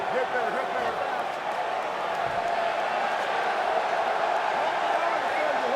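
A fight crowd roars steadily at a UFC event as Pettis's bout nears its end, a dense, sustained wash of cheering from a large arena audience with no breaks throughout.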